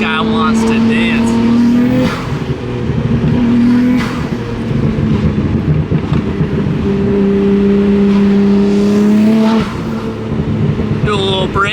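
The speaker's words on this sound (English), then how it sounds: "Do a little brake boost for my boy up front." A car engine revs hard during a brake boost, loud and close, its pitch climbing and dropping in repeated surges over a constant roar, with voices mixed in.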